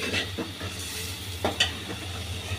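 Mustard and green chili paste sizzles steadily in a pan while being stirred, with a few soft scraping strokes and a brief clink rising over the continuous hiss, fairly close and moderately quiet, no voices.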